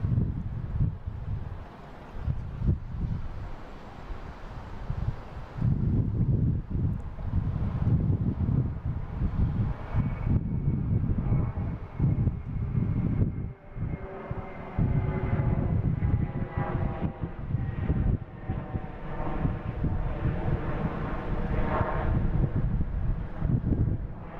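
A JetBlue airliner at Boston Logan International Airport rumbles past outdoors, a loud low roar with a rising whine in its engines, heavy wind buffeting the microphone, no talk.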